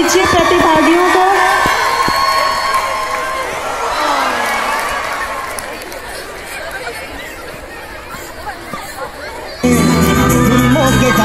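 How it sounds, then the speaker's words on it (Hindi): Crowd at a college sports meet in Karnal cheering and clapping for participants, a loud mix of chatter, shouts and whoops that gradually softens before a sudden louder burst near the end. "जोरदार तालियां बच्चे,"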